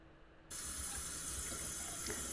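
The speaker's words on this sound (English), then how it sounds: "Turn my water on" Water runs steadily from a bathroom faucet with a newly replaced drain, starting abruptly after a brief quiet moment and continuing as a constant, fairly close hiss into the sink.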